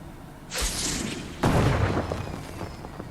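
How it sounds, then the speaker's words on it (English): Two loud fireworks bursts go off about a second apart in the video game Fortnite at Lazy Lake, each a sharp boom followed by crackling decay. "Fireworks"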